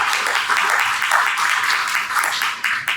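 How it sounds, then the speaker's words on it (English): Audience applause at a conference customer panel, a dense steady wash of clapping from a full room sustained throughout with no talk over it. "Big round of applause for all three of them"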